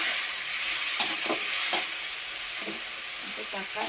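Tomatoes sizzle steadily in a hot pan as they are stirred and fried for a Tamil karavadu kuzhambu, with a constant hiss broken by several short scraping stir strokes, close and alone.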